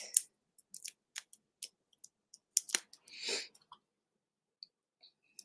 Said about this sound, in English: Let me just trim those off.